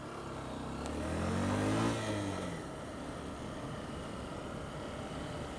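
A Honda CBF 125 motorcycle being ridden, its engine rising in pitch as it accelerates then easing off, with steady wind rush throughout, heard from on board and fairly loud.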